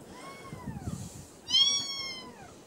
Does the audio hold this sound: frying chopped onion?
no